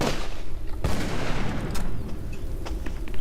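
Gunfire from the video game Call of Cthulhu: Dark Corners of the Earth: a loud, sharp shot rings out early, followed by a string of scattered, echoing shots and bursts over a rumbling backdrop.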